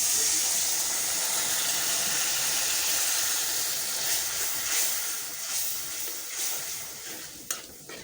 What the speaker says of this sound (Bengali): মশলা কষানোর জন্য দিয়ে দিচ্ছি পানি।